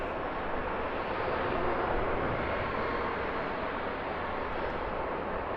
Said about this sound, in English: Oh no, it's a Boeing 737.